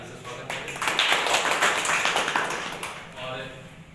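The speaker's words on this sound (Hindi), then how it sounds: "चाहेंगे सर के लिए एक बार जोरदार ताली से स्वागत करें" A crowd at a farewell and felicitation ceremony claps loudly to welcome an official guest, a dense burst of many hands that swells and then tapers off, with a voice talking over it.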